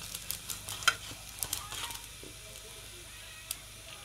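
Chicken patty frying in a small amount of ghee in a pan, a soft, steady sizzle with a few light clicks and scrapes as it is moved back and forth, with no talking.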